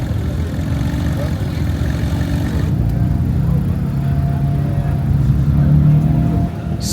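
A BMW E36 with a roll cage runs on the Nürburgring, its engine a steady mid-low rumble that swells slightly toward the end, heard from nearby at a constant drone without a break.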